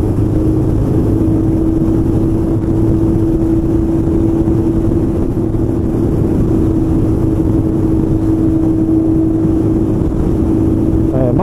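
Motorcycle exhaust fitted with a newly replaced muffler, a deep, heavy bass drone held steady and loud at close range while riding, with wind noise mixed in.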